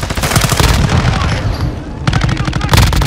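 Rapid bursts of automatic gunfire from AI enemies in the video game Call of Duty DMZ, loud and dense throughout with overlapping volleys and a brief lull in the middle.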